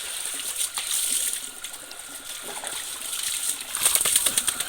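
Water splashing as a dog is bathed, irregular splashes and trickles with bright spattering bursts, growing busier toward the end, no talk.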